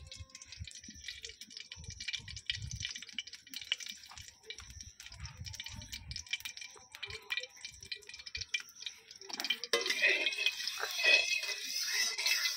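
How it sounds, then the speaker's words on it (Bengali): Oil is poured into a kadai on a freshly lit stove for rohu fish kalia, with light trickling and dripping and small clatters, swelling into a brighter, busier rush near the end. "কড়ার মধ্যে দিয়ে দিচ্ছি তেল"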